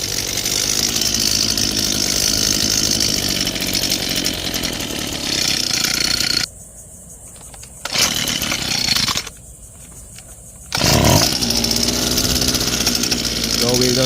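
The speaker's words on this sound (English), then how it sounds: "we'll just crank our weed eater and then we'll run it at full throttle" Echo SRM-230 weed eater two-stroke engine screaming at full throttle, loud and steady, cutting out twice briefly to near silence before roaring back, with a short low thump at one restart.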